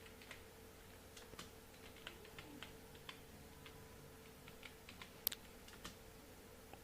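Typing on a computer keyboard while entering data in Tally accounting software: faint, scattered key clicks tapping at an uneven pace in a quiet room, with one slightly sharper strike near the end.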